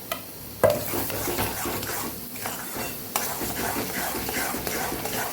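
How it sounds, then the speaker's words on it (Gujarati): Semolina roasts in ghee in a pan and is stirred steadily, with a continuous soft sizzle, repeated scraping strokes and an occasional sharp tap of the spoon against the metal, heard close up. "સેજ કલર બદલાય ત્યાં સુધી જ આપણે રવાને શેકવાનો છે"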